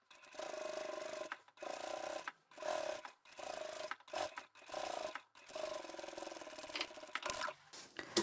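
A sewing machine top-stitches along the edge of a lined drawstring backpack, running in about eight short bursts separated by brief pauses. The motor sounds close but soft.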